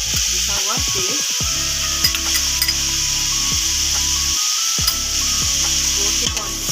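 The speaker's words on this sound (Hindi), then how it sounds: "गोश्त को लहसुन अदरक की जो पेस्ट ऐड किया है इसमें मैं इसको भून लेती हूँ" Meat frying with ginger garlic paste for haleem in a large pot, a loud continuous sizzle and hiss with repeated scraping and stirring strokes, heard close up with no talking.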